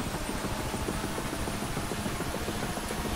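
A UH-1H Huey helicopter in the DCS flight simulator runs with a dense, steady turbine and rotor roar as the throttle is raised, a loud continuous drone with a rapid rhythmic blade chop underneath, no voices.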